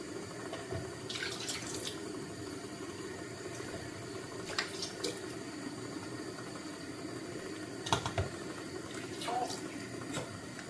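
Water sprinkled by hand over steamed modakam in a home kitchen, a low continuous watery hiss with a few scattered splashes and drips, fairly faint and alone.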